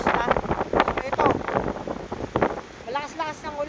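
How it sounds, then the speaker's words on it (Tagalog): Gusty wind from Typhoon Pepito buffets the microphone in roaring, uneven bursts, with heavy rain blended into the rush. Someone talks over it toward the end. "Malakas-lakas ng ulan at ang hangin."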